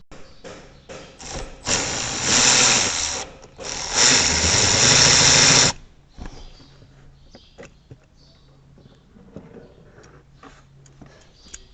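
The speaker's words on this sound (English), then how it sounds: "As this has power seats, I need to move the seat back in order to access this bolt." A power seat motor in a 4th-gen Dodge Ram drives the seat backward, giving two sustained loud whirring runs separated by a brief pause, then quieter clicks and shuffling afterward.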